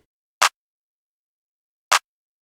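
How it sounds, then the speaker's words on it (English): Two sharp, dry claps from a beat, placed on the third beat of the bar and evenly spaced about one and a half seconds apart, each short and crisp against complete silence. "let's start with a clap pattern"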